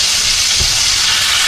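Jarred garlic with its oil hitting a hot pan gives a loud, steady sizzle that crackles evenly throughout, with a brief low thump partway through.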